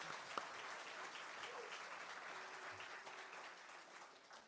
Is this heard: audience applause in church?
yes